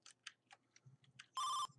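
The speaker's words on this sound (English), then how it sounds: "Ringing the bell!" Electronic bell chime rings in a video game, a single bright sustained tone burst lasting about a quarter second, following scattered short game blips and soft thuds.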